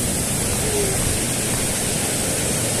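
Heavy ocean surf pounding a rocky fishing shore, a loud, steady broadband roar of crashing waves that runs unbroken through the whole stretch with no talk over it.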